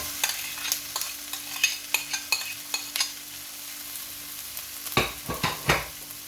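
Potatoes being stirred into a frying spice masala with green chillies, anardana, salt and chilli, a low steady sizzle under repeated sharp scrapes and clacks of a spoon against the pan, with a burst of vigorous stirring near the end.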